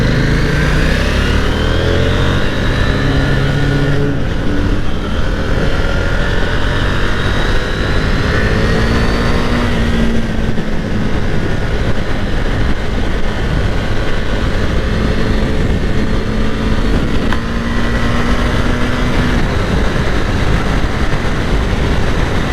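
A KTM 890 Duke motorcycle ridden around town with no exhaust roars loudly and continuously, its engine pitch rising and falling through gear changes, with wind noise.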